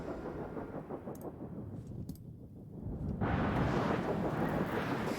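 Thunder rumbles through a storm on the moon Titan in the video game Stationeers, with a deep rolling growl swelling into a loud, sustained roar of wind and rain.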